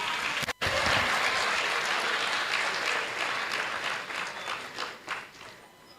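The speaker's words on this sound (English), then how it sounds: "Clap for me." Audience applause at a white coat ceremony: dense, sustained clapping from a sizable crowd, loud and steady, briefly cut by a short gap near the start, then gradually thinning toward the end.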